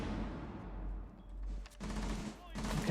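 Gunfire from the tactical shooter Rainbow Six Siege sounds in quick automatic bursts, broken by short gaps, during a competitive esports match. A commentator talks over the shots.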